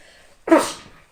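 A single sharp sneeze, a human "a-psik", bursts out after a brief quiet, loud and close, trailing off into a breathy exhale.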